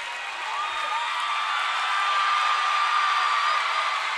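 A basketball district tournament crowd between Grayson County and Edmonson County fans keeps up a dense, steady roar of shouting and cheering in a large gym during a fan fight, swelling slightly and staying loud throughout.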